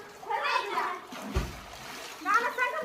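A child jumps into a well and lands with a single sharp splash mid-clip, close by, framed by children's excited voices talking before and after.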